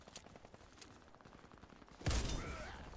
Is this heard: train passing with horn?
no